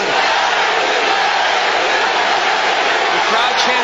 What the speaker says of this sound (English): The crowd chanting Larry Holmes' name for all of Butterbean's popularity